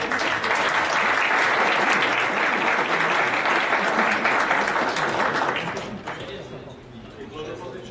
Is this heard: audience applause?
yes